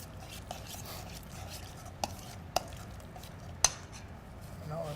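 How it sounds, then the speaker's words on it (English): Sesame oil is stirred into a mayonnaise-based sauce, a soft quiet wet scraping with a few sharp clinks of utensil against the bowl. "Stir that in."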